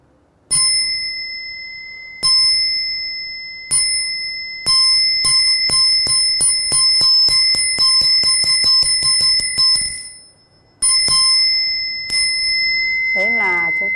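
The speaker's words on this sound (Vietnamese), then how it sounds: "Còn bây giờ chúng ta đánh một hồi khánh thì lúc đầu là ba tiếng khánh" A Buddhist khánh, a stone chime used as a ritual instrument, rings out loud and clear: three spaced strikes, then a quickening roll of rapid strikes, and finally separate strikes again, each leaving a sustained ringing tone and ending with a brief voice.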